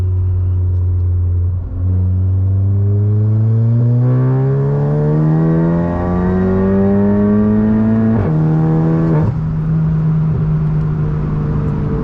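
A Volkswagen MK7 GTI fitted with a big turbo revs and accelerates hard, its loud engine tone climbing steadily through the gears with clear shift drops before settling into a high, steady drone.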